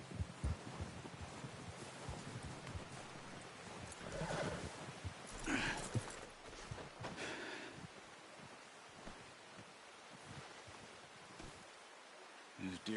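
A horse in Red Dead Redemption 2 whinnies and snorts amid soft hoof clops, with people talking quietly nearby over a continuous outdoor background.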